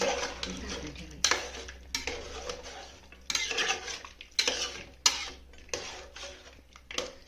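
A utensil scrapes and clanks against a metal pot in repeated bursts, stirring thick mutton curry at close range, with a low steady hum underneath.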